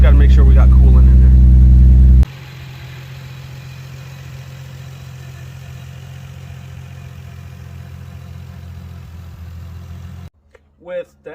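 An old Lexus engine, rebuilt after years abandoned, idles with a steady low rumble close by; a louder burst opens the run and it cuts off near the end.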